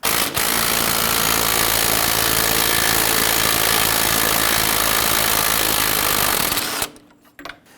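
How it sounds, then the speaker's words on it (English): A 23 mm nut comes off the strut clevis fork of a 2011–2021 Jeep Grand Cherokee: a loud, continuous power-tool whir runs for about seven seconds, then cuts off into a quiet garage. "Go ahead and loosen and remove that nut on the other side."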